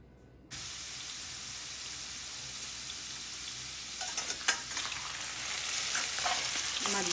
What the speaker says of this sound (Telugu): ఇప్పుడు ఆయిల్ వేడైన తర్వాత ఆలుని ఫ్రై చేసుకోవాలి.